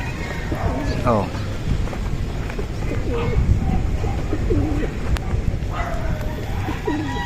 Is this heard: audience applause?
no